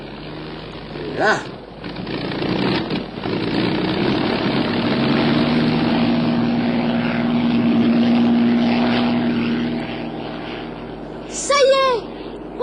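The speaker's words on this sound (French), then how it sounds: "Ça y est, on décolle." Light propeller airplane engine droning steadily as it builds power on the takeoff roll, a sustained mid-loud hum with brief clatter, a voice speaking briefly at the start and near the end.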